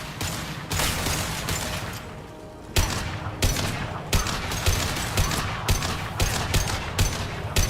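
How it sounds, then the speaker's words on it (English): Impact shot fire in Mass Effect 2, a loud burst of rapid gunfire followed by a string of sharp, evenly spaced heavy shots, each with a punchy attack and short decay, close and dominant. "Firing an impact shot."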